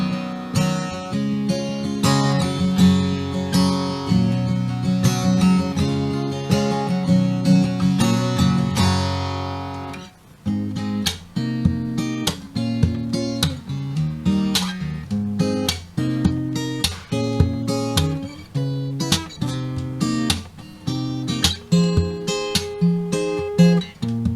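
Unamplified Taylor 110ce acoustic guitar played close, strummed chords ringing out at first, then a rhythmic picked pattern with crisp string attacks.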